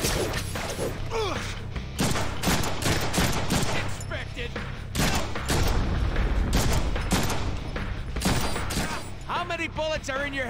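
Rapid bursts of gunfire in a Deadpool video game, loud, clustered shots and automatic volleys with mechanical clanks, overlapped by a character's voice and muffled thuds.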